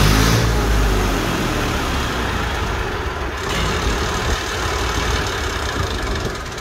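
A Massey Ferguson 2400 tractor engine from Millat idles close by with a continuous, even diesel rumble, holding steady throughout with little change, with no voice over it.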